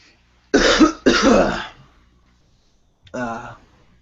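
A pair of quick, harsh coughs close up, followed after a pause by a shorter voiced cough or throat sound.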